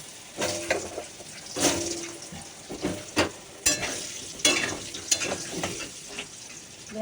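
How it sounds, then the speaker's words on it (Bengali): Potatoes frying in hot oil with turmeric in a wok, a steady sizzle broken by scraping stirs and clatter of a utensil against the pan, close and fairly loud with no talk. "আগে আমি আলুটা ভাজবো"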